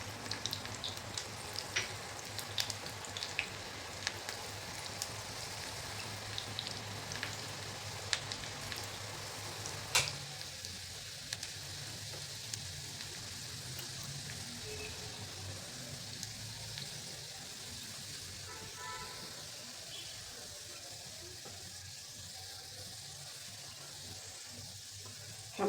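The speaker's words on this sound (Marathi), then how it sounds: "तूप छान तापू द्यायचं. त्यामध्ये घालायचं आहे लसूण" Finely chopped garlic fries in hot ghee for chole bhature, a steady broadband sizzle that runs on and softens slightly partway through, with no speech.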